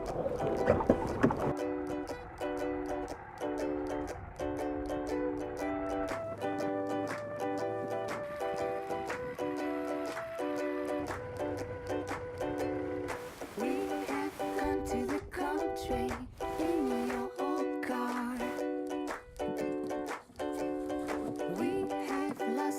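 The motor of a traditional eel fishing boat drones steadily and close by, a continuous hum with a brief louder shift midway and no speech over it.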